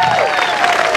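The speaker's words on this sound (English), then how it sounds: "How about a good round of applause for our chainsaw runner?" Crowd applause at a Great Lakes timber show, honoring a chainsaw runner after a timed event; dense, steady clapping sustained throughout with some cheering and a voice faintly present underneath.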